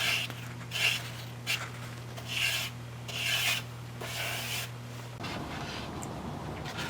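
A brush spreads polyurethane over a wooden shelf, making repeated soft rasping strokes about once a second under a steady low hum, followed by a rougher wash of brushing noise near the end.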